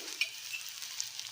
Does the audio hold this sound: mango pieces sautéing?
yes